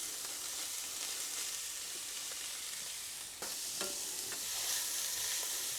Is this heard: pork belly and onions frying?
yes